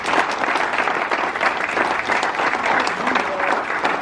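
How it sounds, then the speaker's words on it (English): Audience applause at the 2016 Wisconsin Wetlands Association awards ceremony: dense, sustained clapping from a large crowd, steady and loud throughout without a break. "how about a nice round of applause for the Wisconsin Wetlands Association?"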